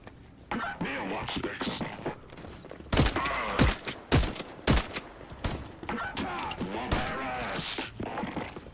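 Enemy gunfire in the survival crafting game VoidTrain, set on a train in a void, comes as a handful of sharp loud bursts in the middle while someone talks through most of the stretch.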